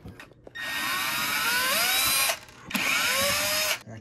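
A power drill backs out screws in two long, loud whirring runs, with a short pause between them where the motor spins down and starts up again. The sound is close and high-pitched.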